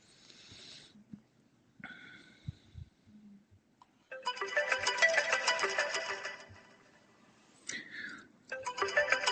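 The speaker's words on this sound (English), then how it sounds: "Is that the phone?" A phone ringtone plays in short repeated bursts of bright electronic tones, moderately loud indoors, with quiet gaps between the rings.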